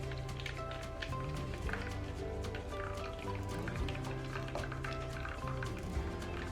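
Liquid whole-lemon slice batter pours steadily into a baking tin, a continuous soft running and dripping flow with small splashes, close by.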